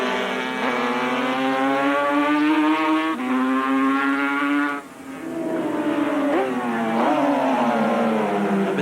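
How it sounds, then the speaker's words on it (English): Two Yamaha TZ750 racing motorcycles roar down Rothman Straight at Sandown during the Australian Road Race Championships, a loud, sustained engine wail that holds steady, dips briefly as it shifts, then climbs again close by. "look at this dice as they roar under power down Rothman Straight once again"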